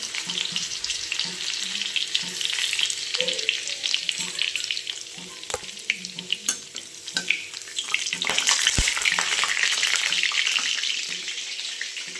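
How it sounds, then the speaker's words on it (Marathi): Cumin seeds and garlic sizzle in hot oil, a steady crackling fry with stirring clinks and a brief burst of louder hissing near the end, heard close with no talking. "तेल गरम झाले आता त्याच्यामध्ये टाकते मी जिरी लसूण"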